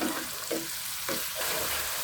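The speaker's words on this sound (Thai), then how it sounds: "วุ้นเส้นครับ เราแช่น้ำให้นิ่มแล้วนะครับ นำลงมาผัดครับ" Soaked glass noodles hiss and sizzle in a hot wok as they are stir-fried, with a few scraping tosses of the spatula against the pan, loud and close, no talking.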